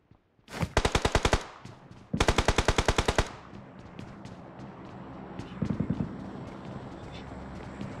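Automatic gunfire in the mobile battle royale game BGMI, two loud, rapid bursts of around a dozen shots each, followed by quieter distant shots and a short faint burst later, over low background game noise.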